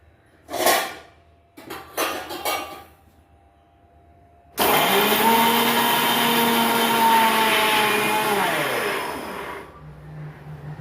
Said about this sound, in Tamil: இந்த ஸ்டைலில் நான் மசாலா அரைக்கேன்